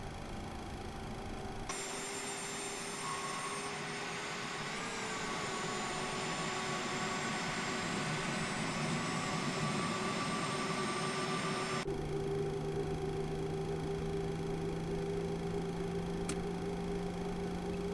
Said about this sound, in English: that's one good engine, starting engine number 1